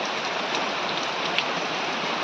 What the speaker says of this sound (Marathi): बघा किती पाऊस पडतो.